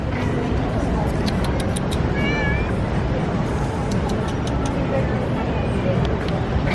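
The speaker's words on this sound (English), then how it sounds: "Oh, Lucy loves the cat's hair." A cat gives a short meow in Manila, heard over a constant background of street traffic and nearby talking.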